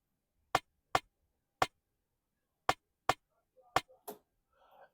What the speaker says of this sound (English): The rim shot sounds like this.